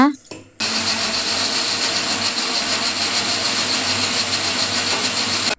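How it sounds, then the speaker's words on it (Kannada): Mixer grinder whirring loudly and continuously as it grinds spice masala for a village-style bassaru, a steady motor roar after a short start. "ಈಗ ಮಸಾಲೆನ ರುಬ್ಕೊಳ್ಳೋಣ"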